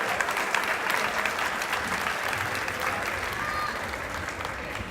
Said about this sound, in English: Another big round of applause for the Mariachi Tigres del Sur.